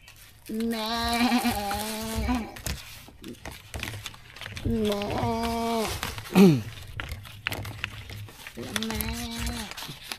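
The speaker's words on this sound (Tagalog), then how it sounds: "bata pa kasi yung kambing na yan." A very young goat bleats in three drawn-out, wavering cries spaced a few seconds apart, fairly close, with faint rustling and background noise between the calls.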